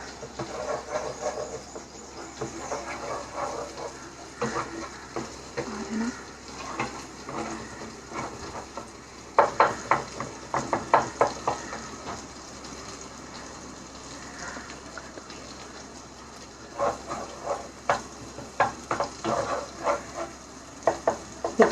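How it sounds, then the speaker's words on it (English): Tomatoes softening in a hot pan, a steady close sizzle of frying punctuated by clusters of scraping, clattering stirring strokes, moderately loud throughout with no speech. "I'm going to cook the tomatoes till it's slightly soft."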